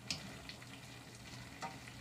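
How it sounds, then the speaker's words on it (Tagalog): Boiling lechon paksiw, a roasted turkey stew with sweet, spicy and sour sauce, gets stirred in an uncovered pot: faint bubbling and sizzling under soft scraping spoon taps, quiet and close with no voices. "So, tatanggalan ko muna siya ng takip at ating haluin."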